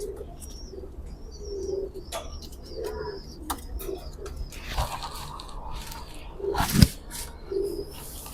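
Male teddy pigeons coo in soft, repeated low calls with short pauses between them, joined by occasional chirps and a sharp thump of handling or wings.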